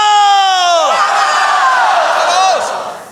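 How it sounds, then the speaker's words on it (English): A live comedy-improv gaming audience in a bar yells together in one loud, sustained group shout with whoops and cheers, holding for about three seconds before trailing off. "We all yell, waffle!"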